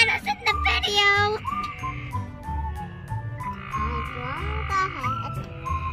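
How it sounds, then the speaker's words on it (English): Frogs croak loudly and close in a steady, overlapping chorus of pulsing calls, with whistling, trilling notes rising above the throbbing base throughout. "Like one of the frogs are right there."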